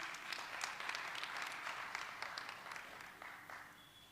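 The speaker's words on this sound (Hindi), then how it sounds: "एक बार जोरदार तालियां।" An audience at a children's poetry gathering in Ayodhya breaks into applause, a dense wash of clapping that holds steady before tapering off near the end, heard at a moderate distance.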